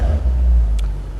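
A 2022 Maserati Ghibli Trofeo with a Ferrari-built engine gives a short, loud, deep rev that swells and then eases off, heard close up with no talking.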